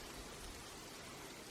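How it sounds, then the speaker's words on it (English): Hail falls steadily during an Easter hike and camping trip at Häähninmäki, a continuous dense hiss of pellets on the ground with no break or voices. "It is hailing."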